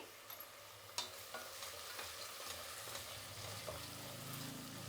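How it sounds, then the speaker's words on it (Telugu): Onions fry and sizzle in a pressure cooker for mutton biryani, a steady hiss with occasional metallic scrapes and knocks as the pan is stirred, close and fairly quiet, no voices. "ఇప్పుడు దీన్ని కలబెడతా ఉంటామంటే మధ్య మధ్యలో ఇది బాగా వేగుతుంది"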